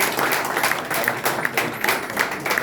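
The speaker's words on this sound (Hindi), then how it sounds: "तो मैं चाहूंगा कि जोरदार ताली" An audience at a gathering claps loudly and continuously in a dense, steady burst of applause with faint voices underneath.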